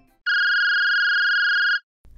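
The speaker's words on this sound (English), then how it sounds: "her phone, which was on the table, started to ring" A mobile phone lying on a table rings with a steady electronic tone that holds for about a second and a half, loud and close, then stops.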